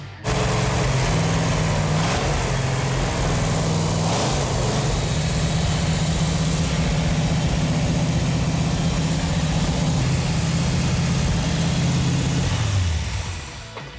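A Chrysler 440 Six Pack V8 in a 1969½ Super Bee idles steadily with a deep, loud rumble close by, holding a constant throb before cutting off at the end.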